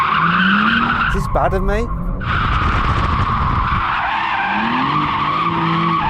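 A BMW M4 skids with loud, sustained tyre squeal and engine noise close by, easing briefly mid-way before the squealing returns, while someone talks over it.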